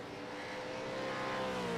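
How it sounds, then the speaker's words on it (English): V8 race car engines in a racing simulator at Spa drone at low revs, a steady, slightly rising hum with layered tones, brief and fairly faint. "I like the sound of these cars in the simulator when they're at low revs"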